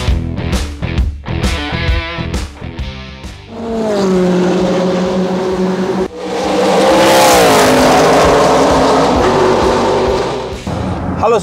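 A Honda Civic EK9 Type R with a B18C engine revs hard and loud, close by, in a sustained high wail that climbs and holds across several seconds, with a short dip in between and some earlier mixed noise.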